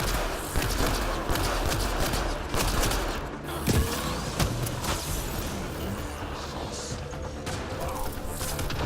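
Chaotic Mass Effect Andromeda combat with scattered gunshots and sharp impacts over a constant loud rumble, a dense, busy wash of noise throughout.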